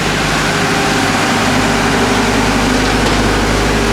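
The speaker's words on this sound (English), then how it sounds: "Now from here we are moving into the engine room. It's a little bit noisy." Two MTU main engines run inside a yacht's engine room, a loud, dense and constant mechanical roar with a low rumble that fills the space throughout.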